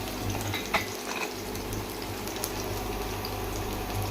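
Ginger and garlic fry in a pan with a steady, dense sizzle, with occasional clinks and scrapes as they are stirred, heard close up without talk.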